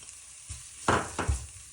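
A brief burst of frying as Kashmiri chili powder goes into chicken curry masala, two quick scrapes of a spoon over a low sizzle, close and fairly quiet.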